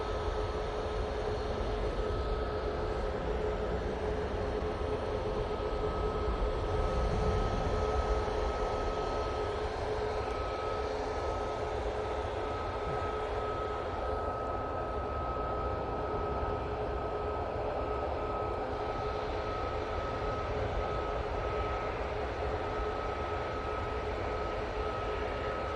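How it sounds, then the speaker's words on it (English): An arriving aircraft at Manchester Airport produces a continuous distant engine roar and rumble, broad and steady with slight swelling, heard from afar over a constant background hum. "Our first cohort of arriving aircraft now since we've switched over."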